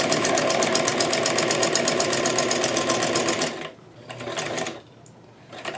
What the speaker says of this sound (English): I got a sewing machine